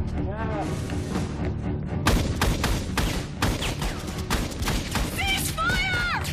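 Rapid bursts of gunfire at a demolition range, loud sharp shots in quick succession over a background of talk and shouting.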